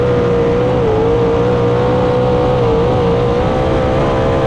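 Dirt-track race cars roar continuously with a loud, steady engine drone that wavers slightly in pitch as they power around the outside toward the start-finish line. No voices are heard.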